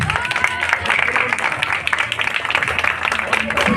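Applause from a crowd at a Saraswati Puja prize distribution, continuous clapping spread through the whole moment with voices mixed in underneath.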